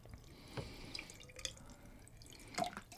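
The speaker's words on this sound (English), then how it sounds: "add more water, and you are done." Water poured from a bottle into a cold brewer gives a faint, close trickle with a few brief splashes and drips over about three seconds.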